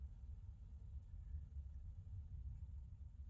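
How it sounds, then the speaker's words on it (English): Distant thunder rolls low and faint outside after heavy rain, a continuous soft rumble with no voices. "that thunder is just rolling out there."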